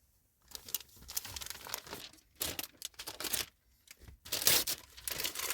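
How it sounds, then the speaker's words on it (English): Sheets of paper being loosely crumpled into balls for homemade firestarters, several bursts of crisp crinkling and tearing close by, separated by short pauses, with no talking. "Crumple them up. Loosely crumple them up."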